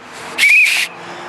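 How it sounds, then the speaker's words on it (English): A whistle fixed to a golf club driver gives one shrill, steady whistle tone lasting about half a second over a quiet background, with no talking. "This one here I call the Wilson whistle. If you take a look here, I put a whistle right on it."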